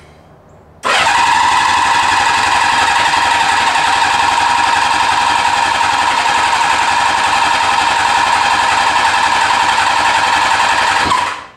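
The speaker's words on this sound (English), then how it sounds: "Let's see if we can get that bike started." A motorcycle left un-winterized roars to life after a short silence, then holds a loud, steady, buzzing idle close by for about ten seconds before cutting off abruptly.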